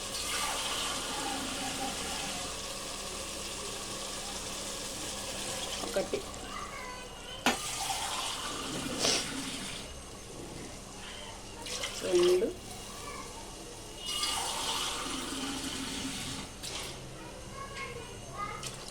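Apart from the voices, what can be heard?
water being poured into a pot for rice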